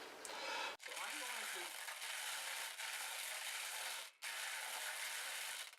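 Stones of four different colors being stirred in a bowl, a dense continuous rattling and grinding clatter with two brief pauses, close and fairly loud.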